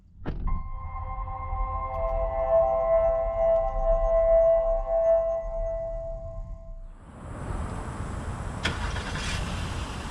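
A 2022 Acura MDX starts up with a brief crank, then holds a steady tonal engine hum for several seconds before shifting into a broader, rougher rush of noise.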